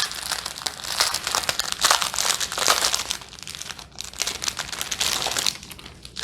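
Crinkly plastic packaging holding rhinestone drills is torn open, giving a continuous close, loud crackling and crunching with bursts of sharper rustles and a brief lull midway.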